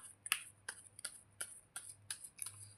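Tarot cards being shuffled by hand in quiet, close, crisp bursts of riffling and slapping, about eight in a steady rhythm, with no talk.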